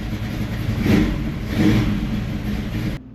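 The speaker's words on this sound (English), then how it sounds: "It should still be idling faster than that." A car engine idles while warming up on a fast idle setting, a close, steady mid-low rumble that swells twice in rpm before dropping off abruptly at the end.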